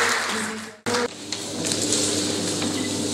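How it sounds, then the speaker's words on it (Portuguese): Audience applause fills a graduation ceremony for nutrition course graduates at Gwaza Muthini 2022: dense, steady clapping from a large crowd, briefly dropping out for a moment before resuming loud and continuous. "Queria pedir uma salva de palmas ao curso, aos dois cursos que já passaram,"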